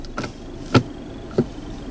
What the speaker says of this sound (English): this gear stick makes a lot of noise whenever I change gears